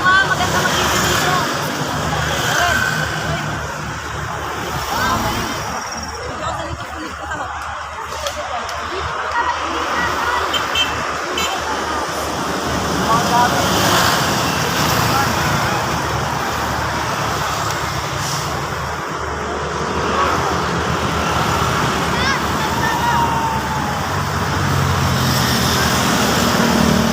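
Continuous road traffic with trucks and cars rolling past along a road during a road bike race, a broad steady roar that swells and eases, with people talking intermittently over it.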